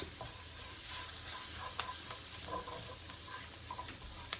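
Curry leaves crackle and sizzle in hot oil in a pan while making Mumbai vada pav, a steady close frying hiss with a few sharp pops scattered throughout.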